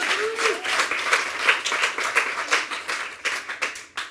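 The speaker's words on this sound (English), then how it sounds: "One more round of applause for that." Audience applause at a global sales meeting, with many hands clapping steadily at moderate loudness in uneven pulses for several seconds and a brief voice near the start.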